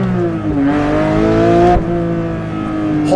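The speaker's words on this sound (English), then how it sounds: "let's actually launch this thing as well" 2023 Porsche 911 GT3 Touring at launch, its engine note rising hard, briefly dropping at a gear change, then climbing again, loud and close inside the car.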